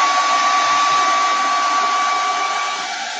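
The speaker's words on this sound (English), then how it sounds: "I grab my handy dandy blow dryer" A handheld blow dryer runs steadily at close range, a loud continuous whoosh with a faint steady whine, drying transfer paste on a vintage truck project; it eases slightly toward the end.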